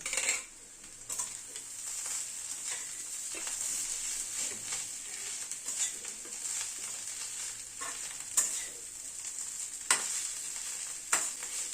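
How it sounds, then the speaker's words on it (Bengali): Fried potato and pumpkin with two green chillies crackle and sizzle in a pan as they are stirred, a constant hiss broken by occasional sharp metallic clinks of the spatula against the pan. "ভালো করে মিশিয়ে দিচ্ছি আলু কুমড়োটাকে।"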